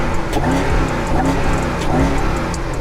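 A car engine runs loud and steady, revving up and down in a few surges with a throaty exhaust note, close by.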